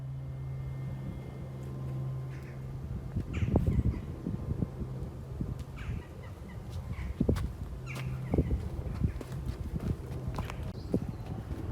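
Horses' hooves clip-clop at a moderate distance against a steady outdoor hum, with occasional bird calls and distant fowl in the background.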